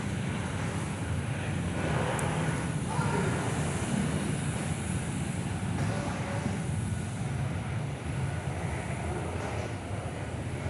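A Qantas Boeing 737 jet departing from runway 03 at Perth Airport, a broad sustained engine roar that stays steady and heavy throughout, distant yet dominant, with wind buffeting the microphone.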